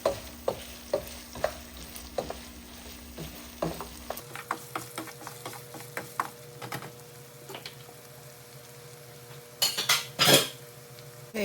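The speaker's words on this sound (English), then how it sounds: "add in our onions and let those saute with our meat a little bit" Onions sauté with ground beef in a pot for chili, clinking utensil scrapes and stirring taps tick along over a soft sizzle, with a louder clatter near the end and no talking.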